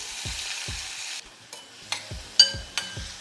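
Chopped vegetables, tomato, grated fresh coconut and red chili hit hot tempering oil for sambar, giving a close, steady sizzle that fades into sharp stirring scrapes and clicks.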